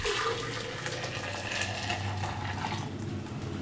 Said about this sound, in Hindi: हम दोबारा से छानने के बाद इसको जग में डालेंगे।